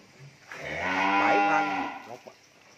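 A cow on a Vietnamese cattle farm lets out a single long, loud moo from close by, rising and falling with strong harmonics over about a second and a half, followed by a couple of brief softer grunts.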